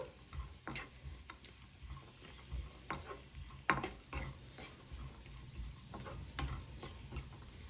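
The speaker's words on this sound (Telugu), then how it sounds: "చూడండి, కిస్మిస్ ఇలా ఉబ్బితే మనకు వేగిపోయినట్టు." Cashews and raisins fry in ghee for sweet pongal, giving a soft, steady sizzle with scattered stirring clicks and scrapes from the pan, close and fairly quiet, with no talking.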